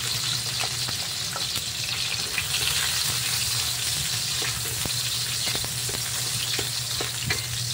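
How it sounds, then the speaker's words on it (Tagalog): Onions sizzle in hot oil in a pan for chicken caldereta, a loud continuous crackling fry with scattered sharp pops and stirring scrapes, close up and without talk. "Uminit na yung mantika, ilalagay na natin ating sibuyas."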